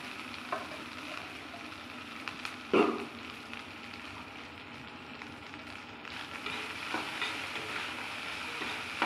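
Cooked rice tossed into a hot pan and stir-fried for vegetable fried rice, giving a steady sizzle and frying hiss with scraping stir strokes and one sharper clatter partway through, heard alone.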